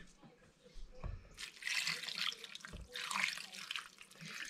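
Water running from a tap into a small pot for beef bone broth, coming in two splashy bursts with brief pauses, close and moderately quiet.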